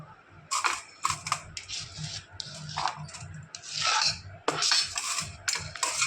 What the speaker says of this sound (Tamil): ஆனியன் நல்லா பொடி பொடியாக கட் பண்ணிக்கிட்டு அதோட பிளேட்டுக்கு ட்ரான்ஸ்ஃபர் பண்ணிக்கலாம்.